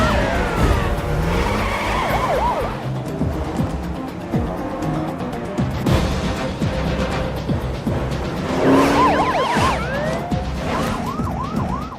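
A car chase between a taxi switched into racing mode and robbers' BMW M3s, with police sirens wailing and repeated tire skids and screeches over a loud, continuous engine roar.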